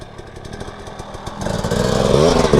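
A Husqvarna TE150 two-stroke dirt bike engine labors while crawling over an obstacle on desert single track near Florence, Arizona, rising from a low putter to a louder, revving drone with clutch-controlled surges.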